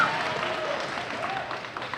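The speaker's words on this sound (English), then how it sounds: "you can clap for him" Audience clapping for a police officer at a school DARE ceremony: a brief burst of dense applause with crowd murmur, from a fairly large group indoors.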